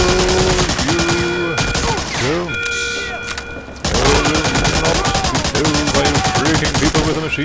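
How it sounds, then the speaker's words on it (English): Rapid machine gun bursts rattle continuously through gameplay in Medal of Honor: Allied Assault, loud and close, with shouting game voices and a pause before the firing resumes. "People with a machine gun again!"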